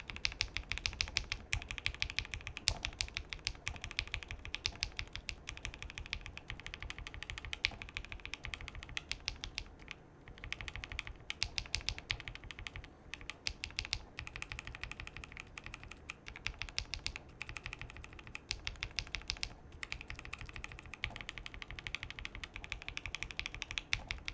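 Steady clacking of Glorious Lynx and Alpaca mechanical keyboard switches as someone types continuously, crisp and close, with brief pauses between bursts.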